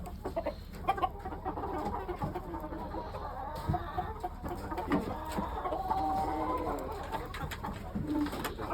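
Young chickens in a pen cluck in scattered bursts among other bird calls, over a steady, busy background murmur.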